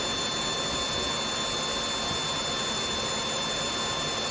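A three-phase permanent magnet generator driven by a synchronous motor runs near 2,650 RPM, giving a loud, steady whine and hum with fixed tonal lines. The sound stays unchanged throughout, with no voices.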